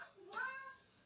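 A cat gives a single clear, drawn-out meow at close range, rising then fading over about a second in a quiet room.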